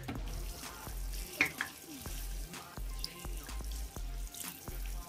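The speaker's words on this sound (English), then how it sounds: "Now we just have to rinse it down with water." Water runs over a Reebok Z-Pump Fusion sneaker outsole as it is rinsed, a steady close splashing stream with rhythmic low thumps and occasional drips throughout, no speech heard.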